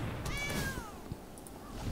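A single short cat meow sounds from the Stray Kitty Cat card in MTG Arena, clear but brief over a low background hum, with no talking.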